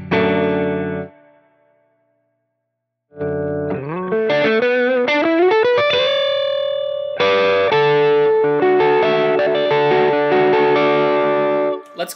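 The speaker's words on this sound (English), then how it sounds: "adding a little bit of overdrive after the spring reverb" Electric guitar through a Line 6 Helix Lone Star amp model, with overdrive after spring reverb, plays a sustained chord that stops, then after a pause resumes with rising notes, bends and ringing chords.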